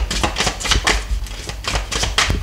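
Tarot cards being shuffled by hand: a run of crisp, papery riffles and slaps arriving in quick bursts about every half second, close and fairly loud, with no talking.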